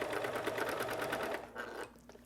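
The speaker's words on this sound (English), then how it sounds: "now I'm going to start sewing this direction" A sewing machine stitches binding onto a quilt in a fast, steady run of needle clatter, then slows and stops, close and clear.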